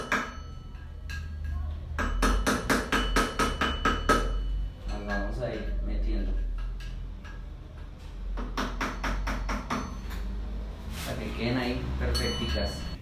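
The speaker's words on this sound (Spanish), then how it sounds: "vamos a doblar las aleticas. Entonces con un destornillador." Metal tapping and clinking as a screwdriver bends the lock tabs on the rear sprocket bolts of a Bajaj NS 200 FI motorcycle during a chain and sprocket kit change, bursts of sharp ticks in clusters over a low steady hum.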